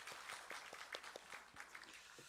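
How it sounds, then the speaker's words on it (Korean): A church congregation gives a round of applause. Many hands clap at once in an even, scattered patter that sounds somewhat distant and soft throughout. "우리 한 박수 한번 드리시죠"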